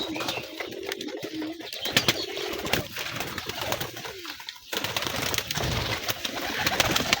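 Giribaz pigeons in a loft cooing close by, low throaty rolling calls repeating through the stretch with brief pauses and faint rustling between them.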